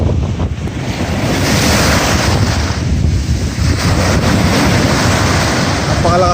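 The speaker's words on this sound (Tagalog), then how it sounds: "Napakalakas pa rin ng alon." Strong surf pounds a beach at Calilayan Cove, a dense, continuous roar of breaking waves with heavy wind buffeting the microphone throughout.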